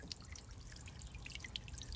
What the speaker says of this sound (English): The solar power pump is just ticking over the fountain